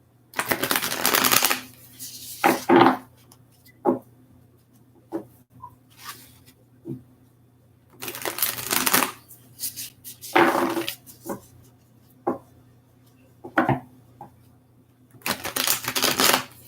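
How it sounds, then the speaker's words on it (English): Tarot cards shuffled in several quick riffling bursts, close up, separated by short pauses and a few soft taps; no talking. "just a couple more shuffles here for Cancers."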